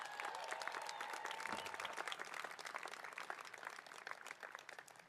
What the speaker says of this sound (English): Let's give Izzy a big round of applause.